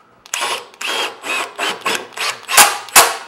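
A power driver sends a screw into wood paneling boards in a series of short, loud whirring bursts, about seven pulses in quick succession, the last ones sharper and heavier as the screw seats.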